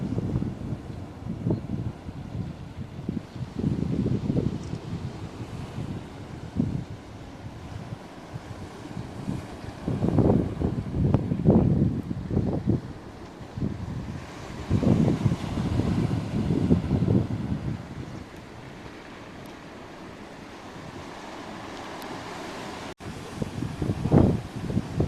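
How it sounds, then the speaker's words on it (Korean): Strong gusts of wind buffet the microphone on a rocky seaside at Sinseondae in Geoje, with rumbling bursts rising and falling over a faint background of surf and no talking. "바다 물결도 좋고 바람 많이 분다, 그죠?"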